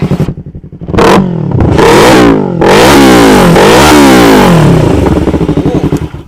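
A 2018 Yamaha YZF-R3 sport motorcycle engine revs hard through its exhaust in repeated loud surges, rising and falling in pitch, close by and with no voices.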